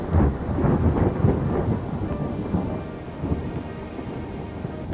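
Thunder rumbles through a rainstorm, a long rolling low boom that swells early and slowly fades, with a steady hiss of rain underneath.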